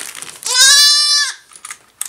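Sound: newborn goat kid bleating

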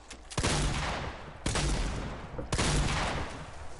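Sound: gunfire from guns in video game

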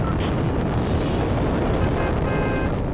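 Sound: missile launch explosion in Fortnite video game

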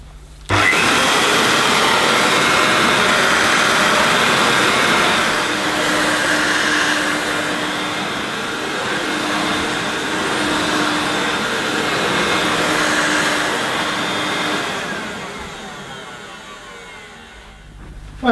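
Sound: Hoover S2095 Quick Broom II mains stick vacuum cleaner running

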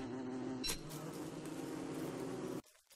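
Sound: bees buzzing in the video game Don't Starve

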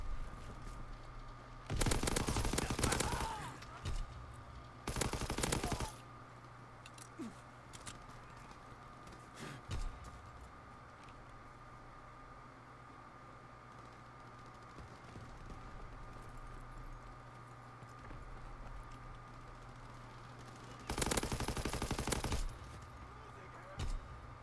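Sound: machine gun firing in video game Call of Duty WWII

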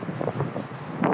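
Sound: strong wind

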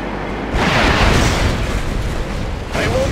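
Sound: nuclear missile explosion in video game Red Alert 2

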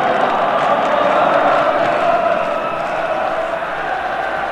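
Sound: Irish football crowd cheering

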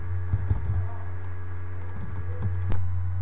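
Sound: typing a Linux terminal command on a computer keyboard

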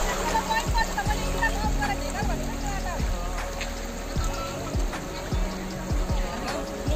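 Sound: flowing river water

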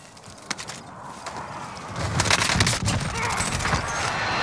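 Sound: precision airstrike in a video game

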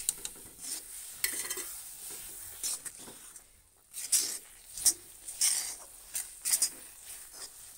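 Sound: stirring roasted sesame seeds into cooking jaggery syrup in a pan

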